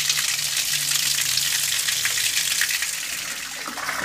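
Tap water runs into a fish tank as a steady, loud gushing hiss that stays constant throughout and eases off slightly toward the end.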